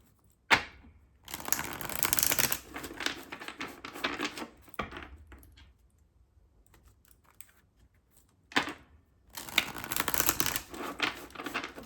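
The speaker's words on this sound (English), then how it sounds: "I'm just going to do a shuffle." A deck of tarot cards is shuffled by hand in two separate bursts of quick, crisp riffling, one early and one at the end, with a quiet pause between them; the sound is close and fairly soft.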